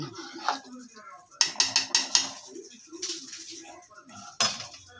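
Quick metallic clanks and clicks of a pressure cooker lid being fitted and closed, with a final clank, over quiet talk in a kitchen.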